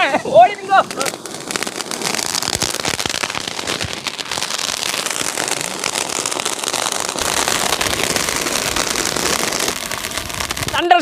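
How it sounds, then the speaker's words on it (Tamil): A tri-colour fountain firecracker from Sivakasi, set off for Diwali, hisses and crackles in a sustained, dense spray of sparks for about ten seconds, close and loud, with brief voices at the start and end. "அடுத்ததா ட்ரை கலர் பவுண்டைனை ட்ரை பண்ணி பாத்துருவோமா?"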